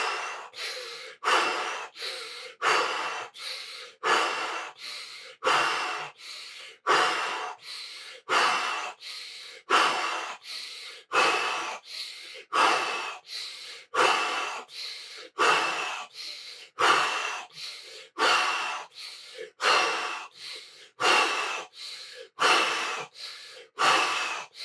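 Intense Tummo breathing: about twenty forceful breaths in a fast, regular rhythm, each a sharp rushing inhale and exhale, close to the mic with nothing else heard.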